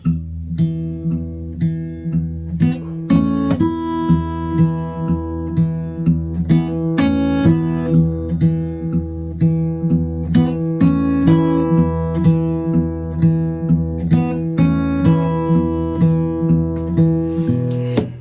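Acoustic guitar fingerpicked alone for a song, a steady ringing bass note under plucked treble strings in an even, moderate rhythm, close and clear with no voice.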